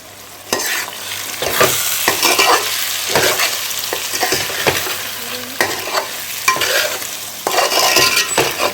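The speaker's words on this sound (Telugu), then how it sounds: "ఈ సాల్ట్ కూడా యాడ్ చేసిన తర్వాత మంచిగా మిక్స్ చేసుకున్నాం" Boiled egg gravy with chili powder and salt stirred in a pan, a loud continuous sizzle broken by repeated scraping strokes of a spoon against the pan, close and steady with no talk.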